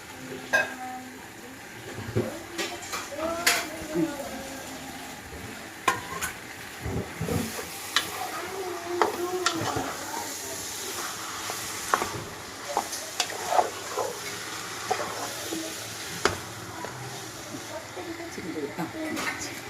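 Chicken biryani masala sizzling in a pan as fried onions are stirred in, with soft bubbling, scraping stirs and occasional clinks, while people talk over it.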